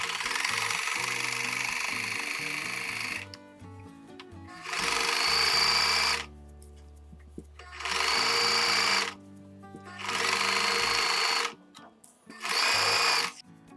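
A sewing machine stitches a skirt seam with backstitching, running in four loud bursts of a couple of seconds each, separated by short pauses.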